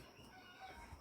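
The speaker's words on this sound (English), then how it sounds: "If you hear chickens in the background" Neighbors' penned chickens clucking and a rooster crowing, faint and distant behind a steady low background, no talk.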